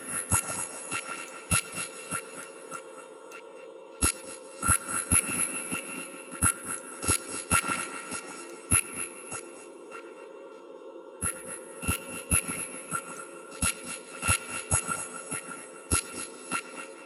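Sparse glitchy electronic beats from the GlitchScaper iPad app, with crisp clicks and hits firing in irregular bursts, pausing briefly before the pattern resumes; no talking.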